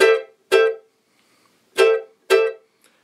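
Two pairs of crisp ukulele strums in a cavaquinho-style samba rhythm, each chord cut short by left-hand muting, with brief silences between the close, dry hits.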